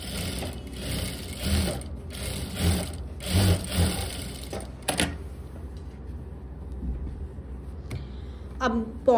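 An electric sewing machine stitches along the side of a trouser pocket on formal pants, giving bursts of rapid mechanical whirring that start and stop several times in the first half before the room falls quiet.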